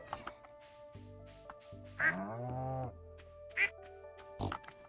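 Duck quacking on a farm in Stardew Valley, several distinct nasal quacks in short bursts, with a pig's grunt and soft game sounds between them.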